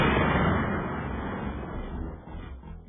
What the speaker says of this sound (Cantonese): 造成管內爆炸。